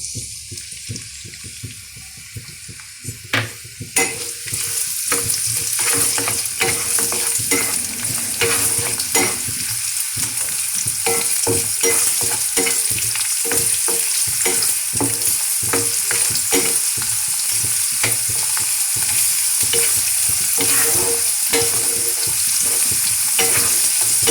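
Chopped onions sizzle loudly in hot oil in a pan, with the hiss rising sharply after a quieter start and continuing steadily under repeated scraping and stirring strokes.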